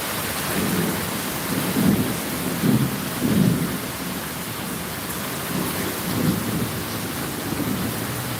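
Heavy rain pours steadily in a town during a thunderstorm with lightning, while several deep rolls of thunder rumble beneath the constant hiss, with no voices.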